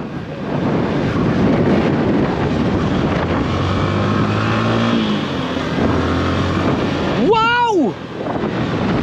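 Strong, cold wind roars steadily across the microphone on an open scenic hillside, a continuous loud rush with a brief voice exclaiming near the end.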